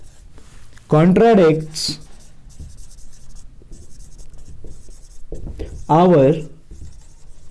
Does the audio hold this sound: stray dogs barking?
no